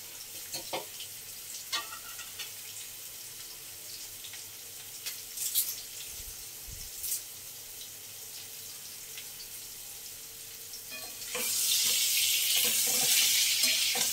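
Lightly boiled potatoes with turmeric powder fry in oil for achari alur dom, a soft steady sizzle with scattered clinks that swells into a louder, fuller hiss near the end.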